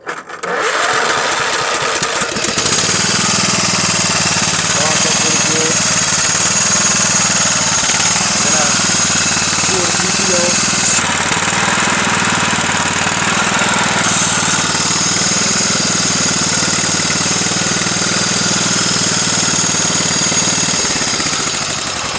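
Small engine on a homemade trail mower cranking, catching and settling into a loud, steady running drone close by, continuing for about twenty seconds with some rattling.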